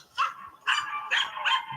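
A dog barks four times in quick succession, close and fairly loud, with short gaps between the sharp yaps, heard from a short video being played back.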